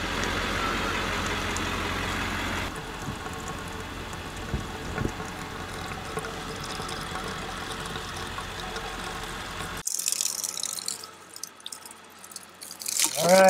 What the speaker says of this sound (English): we're filling up our water tank before we move on to our actual campsite